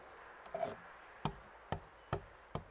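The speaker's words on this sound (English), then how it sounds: "Meanwhile, we grind in the mortar black pepper," Black pepper, cloves and cinnamon pounded in a mortar, heard as four sharp, fairly close strikes spaced roughly half a second apart after a faint softer scrape.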